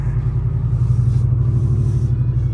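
Vehicle engine idling steadily, freshly fitted with new tires and brakes, with a deep continuous rumble and a faint intake whine on top, close and constant with no talk.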